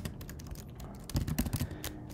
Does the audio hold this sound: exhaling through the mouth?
no